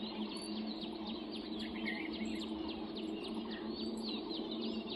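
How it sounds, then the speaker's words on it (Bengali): Birds call on a foggy morning, quick chirps and tweets repeating through a steady, moderately loud background hum, with no one talking. "সকালবেলা কত ধরনের পাখি দেখা যায় এখানে আর পাখিদের কলর অফ শুনতে পারছো"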